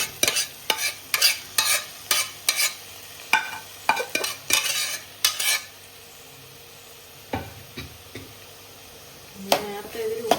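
Cooked beans stirred into a sautéed banana stem dish in a pan: a fast run of sharp spoon scrapes and knocks against the pan, then a pause and a few more scrapes, with a faint sizzle underneath.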